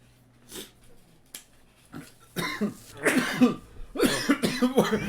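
Rough, wheezy coughing up close, starting with a few isolated hacks and building into repeated raspy bursts with heavy breaths.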